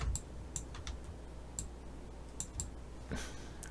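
Computer keyboard keys are pressed during 3D modeling in Maya, giving a handful of crisp, irregular clicks over a quiet room hum, close and faint, with no speech.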